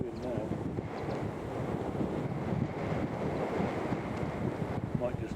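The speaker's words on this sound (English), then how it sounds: "Wind's blowing now." Outdoor wind at a shooting range gusts steadily against the microphone, producing a continuous low rumbling buffet that stays moderate and unbroken throughout.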